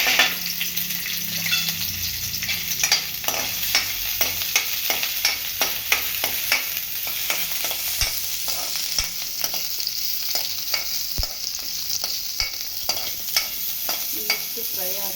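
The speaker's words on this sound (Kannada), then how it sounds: "ಸ್ವಲ್ಪ ಫ್ರೈ ಮಾಡಬೇಕಿದ್ದೀನಿ. ಕರಿಬೇವು ಹಾಕ್ತಾಯಿದ್ದೀನಿ," Curry leaves and ginger fry in oil in a pan for a green pea paratha dish, giving a steady sizzle broken by repeated sharp clicks and scrapes of stirring.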